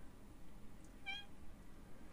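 One short, faint meow from a cat rises briefly above quiet background hiss.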